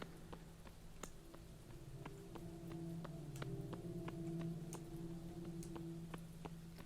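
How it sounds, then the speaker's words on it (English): Soft, steady rainfall in the video game Lucid Blocks, with scattered light ticking drops over a low constant hiss and faint tonal hum, no one talking. "I can hear the rain in my own footsteps more than I can hear it if I'm not paying attention"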